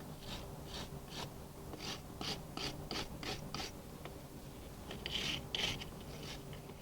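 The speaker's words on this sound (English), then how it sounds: "we just take that off with a wire brush" A wire brush scrubs copper corrosion off car battery terminals, with a steady run of close, rhythmic rasping strokes, then a brief pause and a few harsher scrapes.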